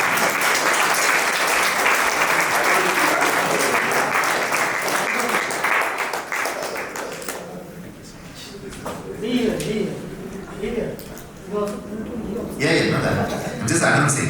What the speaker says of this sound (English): A very big round of applause to him.